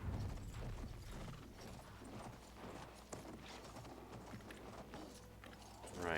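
Rhythmic clip-clop of horse hooves trotting steadily in the video game Battlefield 1, fairly close and continuous, with a brief snort near the end.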